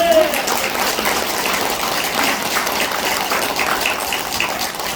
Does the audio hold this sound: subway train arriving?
no